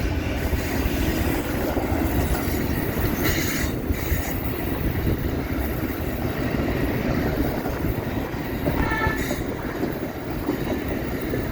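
A long Amtrak Southwest Chief train with three engines rumbles past close by at Mormon Rocks in a steady, loud roar with rattling wheels and occasional faint squeals, continuing throughout.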